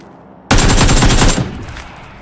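A rapid burst of AK rifle fire in a video game, about a second of tightly spaced automatic shots that stops sharply, leaving a quieter tail of ambient game sound.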